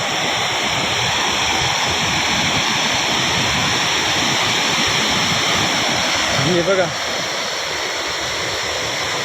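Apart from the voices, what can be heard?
water rushing from Bhandardara dam overflow gate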